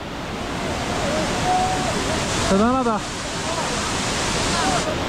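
A waterfall at Jiuzhaigou in China gives a constant, broad roar of rushing water, with someone speaking briefly over it.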